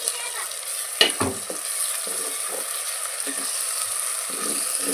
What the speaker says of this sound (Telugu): మనకి అల్లం వెల్లుల్లి పేస్ట్ కూడా వేగింది కదండి